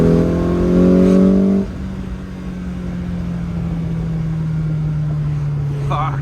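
A Lotus Elan car engine running steadily at quarter throttle, a loud close drone that briefly revs higher at the start and then settles into a steady note.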